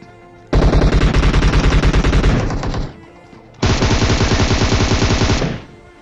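Two long, loud bursts of rapid automatic AKM fire in a shooter game, each lasting a couple of seconds with a tight rattling rhythm, separated by a short lull.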